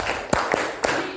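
Classroom clap game with three crisp hand claps, the first two close together and the third after a short pause, heard nearby against soft room noise.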